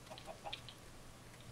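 A few short, quiet clucks from a chicken in the video game Minecraft, bunched in the first half-second, then a low steady hum with no further calls.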